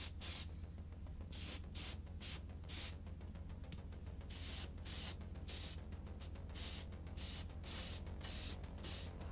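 An airbrush or spray can hisses in a long run of short bursts and sustained puffs, close and steady, as a weathering dust coat goes onto the tracks of a model Bradley or Chieftain tank.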